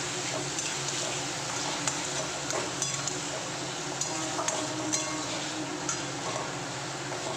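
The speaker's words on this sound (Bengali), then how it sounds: "এখন আমি কষিয়ে নেব পেঁয়াজের সাথে মানে আলু পেঁয়াজের সাথে পেঁয়াজ বাটাটাকে সুন্দর করে আমি কষিয়ে নিচ্ছি" Onion paste and potatoes sautéing in oil in a pan give a continuous dense frying hiss with occasional light clinks of a stirring spoon, close and steady throughout.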